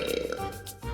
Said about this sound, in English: A pair of monsters who burp.